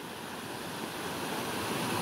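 Water waves splashing and washing steadily as a waterproof phone is dipped in, a broad continuous rush with wind noise, close and with no voices.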